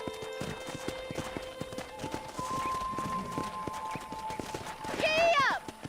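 Horse hooves clip-clopping in Red Dead Redemption, a steady walking rhythm of close hoofbeats with a whinny near the end, alongside in-game voices.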